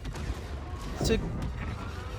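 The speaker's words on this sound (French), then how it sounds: "Deux explosions de Venator comme ça." In the Star Wars Battlefront 2 video game, a Venator starship explodes, a short booming blast with crackling debris that swells briefly amid steady battle noise. No speech is audible during the blast.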